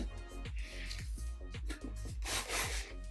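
Cardboard scrapes and rubs up close as a Nike sneaker box for the Martine Rose x Nike Shox MR4 is opened, with quiet irregular sliding and a few soft knocks.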